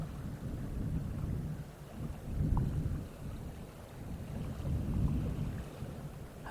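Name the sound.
lake water lapping at Lake Colorado City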